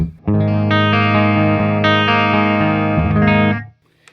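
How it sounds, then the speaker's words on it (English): A sustained clean electric guitar chord rings out through a Bravado amplifier, steady and full for about three seconds, then shifts briefly before cutting off into silence. "here's my clean tone on the bravado."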